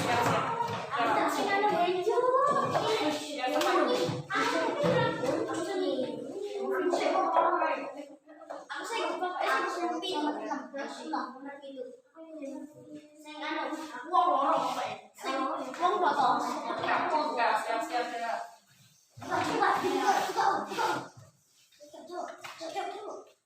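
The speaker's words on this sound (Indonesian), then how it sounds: "tepuk tangan untuk Mbak Nur" Students in an Indonesian classroom clap in scattered bursts, close and fairly loud, mixed with children's voices and a teacher speaking between the rounds.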